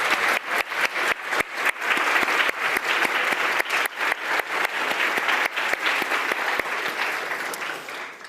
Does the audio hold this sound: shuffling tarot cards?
no